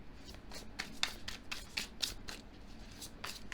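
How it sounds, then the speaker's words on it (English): Tarot cards shuffled up close, a brisk series of about ten short papery riffles and slaps in an uneven rhythm, quiet and unaccompanied by speech. "Let's draw a few more tarot cards"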